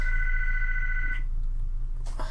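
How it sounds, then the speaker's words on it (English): A telephone bell ringing, a steady two-tone electronic trill repeating for about a second before cutting off, followed by a faint click and rustle over a constant low background hum. "The phone rings."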